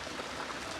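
Steady rain falling on a farm field, a dense, even hiss of drops with no breaks, close and moderately loud throughout.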